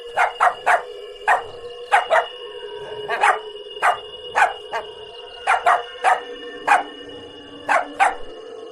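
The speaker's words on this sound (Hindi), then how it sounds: "फिर टफी वहीं रुक जाता है और जोर जोर से भौंककर अपने साथियों को पुकारने लगता है।" A dog barks loudly and repeatedly in quick bursts of two or three, about fifteen sharp barks over nine seconds, close and clear with no talking.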